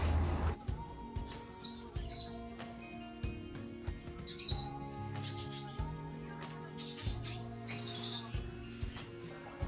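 Small caged birds in a pet shop chirp in short, scattered high-pitched bursts, fairly faint, over a low steady hum of the shop.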